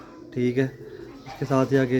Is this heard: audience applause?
no